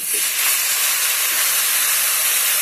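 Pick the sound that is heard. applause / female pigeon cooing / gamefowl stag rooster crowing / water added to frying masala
water added to frying masala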